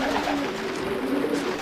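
A pigeon coos in low, soft, repeated phrases, close and fairly steady, against a light background hiss.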